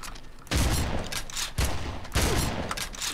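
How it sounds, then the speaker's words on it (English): Shotgun fire in the video game Red Faction: three loud, close blasts spaced about a second apart, each with a heavy booming attack and a lingering decay, over a faint background. "Oh, shotgun to the face."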